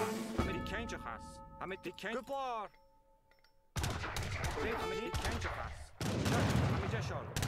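Rocket volleys fire in the Age of Empires III strategy game, with bursts of explosive in-game gunfire and blasts amid battle noise while someone talks over much of it.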